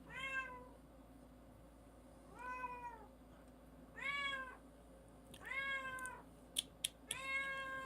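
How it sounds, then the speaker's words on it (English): A cat meows repeatedly, five or six drawn-out cries spaced a second or so apart, fairly close, with a couple of sharp clicks near the end. "See, you can hear him. Hear that cat?"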